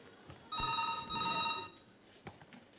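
A telephone rings in two short back-to-back bursts during a hospital comedy skit, fairly clear against a quiet room, followed by a brief knock or click.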